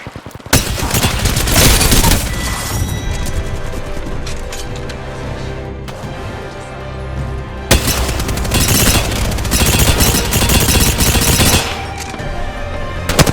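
Dense, loud gunfire in the battle-royale game Apex Legends, rapid automatic bursts and booming impacts crowding almost the whole stretch with only brief lulls.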